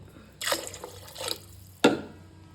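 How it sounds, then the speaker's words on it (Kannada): Cups of water are poured into a cooking pot while making bisi bele bath, with three separate splashing pours, the last one short and sharp, each standing out against a quiet kitchen. "4 ಕಪ್ ನೀರು ಹಾಕ್ಕೊಳ್ತಾ ಇದ್ದೀವಿ"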